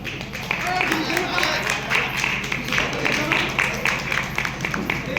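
A crowd applauds an invited guest at a business seminar, sustained clapping spreading through the hall under an announcer's voice.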